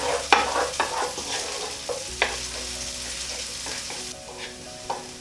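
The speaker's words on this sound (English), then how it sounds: "saute for a further 2 minutes or so. It's just important to keep everything moving, don't let anything burn" Aubergine masala sautés in a pan with a gentle sizzle while a spoon stirs and scrapes in irregular strokes, close and moderately loud with no talking.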